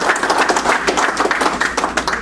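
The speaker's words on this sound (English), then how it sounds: "A round of applause for the officers," Audience at a St. Louis rocketry club retirement party clapping in a sustained, dense round of applause, close and loud, with no voices over it.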